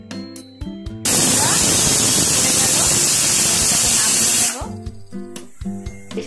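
Pressure cooker releasing steam while cooking chicken ghugni, a loud, close, continuous hiss lasting about three and a half seconds that cuts in and out abruptly, with background music before and after.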